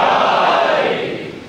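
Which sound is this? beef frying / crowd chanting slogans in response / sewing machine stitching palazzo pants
crowd chanting slogans in response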